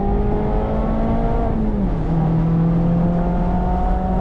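Mazda ND3 Miata driven hard on a public road, a loud steady engine drone from inside the car with the pitch dropping at a gear change midway and then holding, plus road and wind noise.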